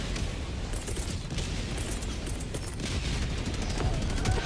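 An automatic weapon with heavy recoil fires continuously in the video game Helldivers 2, producing a dense, loud, unbroken rattle of shots layered over booming battle noise.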